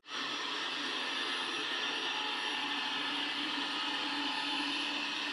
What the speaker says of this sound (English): You're going to be able to hear this vacuum while it's cleaning in the room